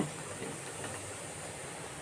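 A steady, even hiss of steam runs the whole time from a pot of kozhukattai dumplings boiling hard, with no other sounds.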